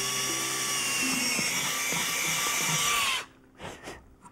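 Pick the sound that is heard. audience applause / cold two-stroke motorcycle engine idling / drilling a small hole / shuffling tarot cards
drilling a small hole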